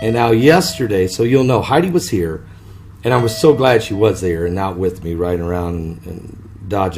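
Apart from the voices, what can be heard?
No distinct noise like a dog, phone or traffic.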